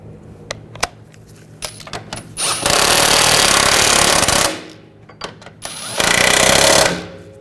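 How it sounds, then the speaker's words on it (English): An impact tool tightens the bolts on a rear upper shock mount of a 2007-2013 BMW 328i: a few sharp clicks and taps, then two loud, close, sustained rattling bursts of a few seconds each, separated by a short pause. "Tighten those down. Torque these to 40 foot-pounds."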